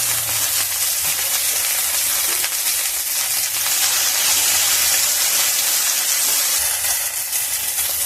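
Okra fries in oil in a pan over a low flame, giving a loud, steady, close sizzle and crackle with faint stirring throughout.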